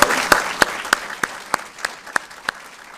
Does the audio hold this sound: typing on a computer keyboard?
no